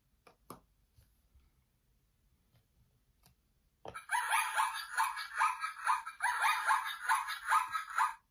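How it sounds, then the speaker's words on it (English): A toy zoo animal sound puzzle plays a monkey call: faint taps, then a loud, sustained run of rhythmic, shrieking chatter pulsing in rapid repeated hoots. "monkey."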